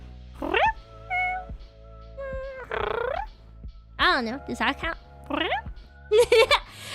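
A person imitates a cat's trilling purr with a series of short, rising and warbling vocal chirps, close and fairly loud, separated by pauses and mixed with a few spoken words.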